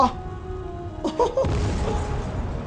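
A muffled boom and crash rumble out in Marvel's Spider-Man Remastered, following a few brief rising tones, with a dense low roar continuing after the blast.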